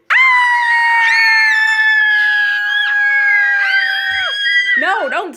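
A child screams one long, piercing, sustained high-pitched shriek at close range for about four seconds, breaking off into a few shorter wavering cries at the end.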